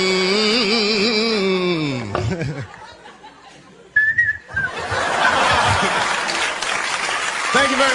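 A person whistles a wavering, melodic tune loudly as an imitation of whistling while working, followed by an audience breaking into laughter and sustained applause, with a voice speaking briefly in between.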